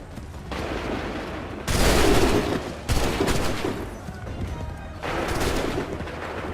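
Massed musket volleys roar out in Assassin's Creed III: a steady crackle of gunfire builds into two loud, dense bursts, then a third swell, with sustained rumble between.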